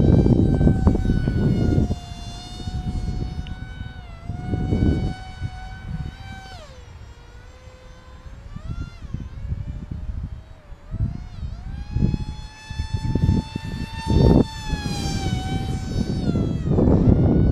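An FT Sparrow radio-controlled model airplane's electric motor whines continuously on its first flight, its pitch rising and falling as it swoops and passes, with gusty wind bursts at times.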